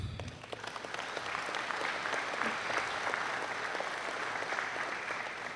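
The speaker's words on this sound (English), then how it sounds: "A big round of applause for all of us." Steady, moderately distant applause fills a university convocation ceremony hall, a dense wash of many clapping hands that holds evenly throughout with no clear voices.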